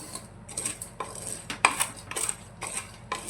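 Black chickpeas being roasted in a pressure cooker over a high gas flame and stirred with a metal utensil, giving irregular scraping and clinking against the pot, close and moderately loud, no speech.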